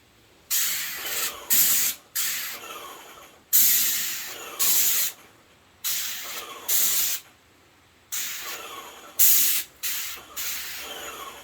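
Airless sprayer applying stain to a deck, loud hissing bursts in pairs, each lasting about a second with short gaps, repeating steadily at close range with no talk.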